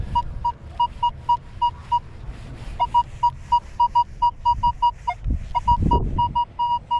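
A Minelab X-Terra Pro metal detector sweeps over a football field, giving a steady rhythmic run of short low-pitched beeps, fairly loud and close, with a brief gap and some rustling and ground scuffing.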